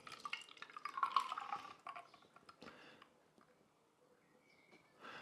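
Cocktail strained from a shaker into a double old-fashioned glass, a soft trickling pour with faint drips and clinks, fading toward the end.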